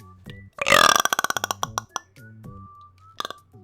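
A long, loud, close burp with a rapid rattling pulse, followed by a few smaller throaty gulps and a short second belch near the end.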